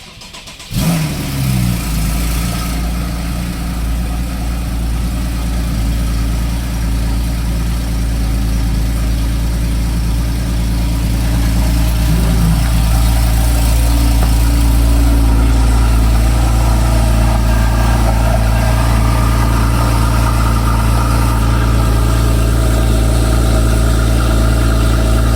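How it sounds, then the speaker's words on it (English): Porsche 981 Cayman S with a modified, opened-up exhaust starting with a sharp loud catch, then settling into a steady, deep, close idle that continues for over twenty seconds with no voices. "So here's the startup."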